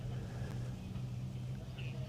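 A side-by-side off-road vehicle engine drones low and steady in the distance at an off-road rally stage, a faint continuous rumble with no clear rise or fall.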